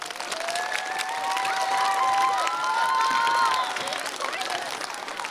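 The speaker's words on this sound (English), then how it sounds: "So I want to give them, your family, a round of applause," An audience at a choir festival gives a sustained round of applause, mixed with cheering and whooping voices that rise through the middle and fade toward the end.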